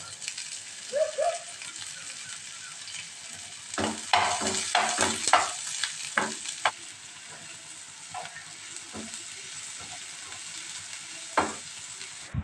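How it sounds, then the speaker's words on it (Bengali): Onion and dried red chillies fry in a pan with a constant close sizzle, punctuated by clusters of sharp stirring clatters and scrapes. "পেঁয়াজটা নিজের মতো ভাজা হোক"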